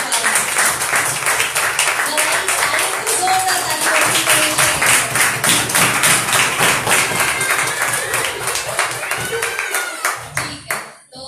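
Congregation at a Hindi-language Sunday church service clapping steadily together in a dense, continuous round of applause that fades out near the end, with faint voices mixed in.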